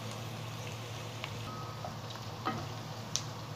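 Meat sizzling and frying in a pot with onion and dried lemon for Arabic marag stew, a steady soft hiss with a few light scraping stirs, fairly quiet and alone.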